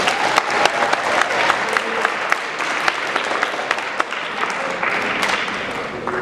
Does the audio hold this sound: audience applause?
yes